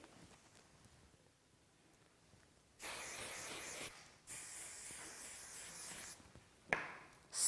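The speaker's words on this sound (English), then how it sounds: "Spray." A CHI Miss Universe hair spray hisses in two long bursts, about a second and then nearly two seconds, with a brief sharp spritz near the end. No one speaks, and the room is otherwise quiet.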